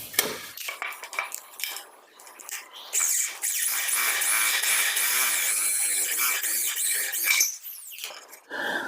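A power drill bores a hole in a wall for a cable, its steady grinding whine holding for about four seconds between short bursts of clattering and scraping.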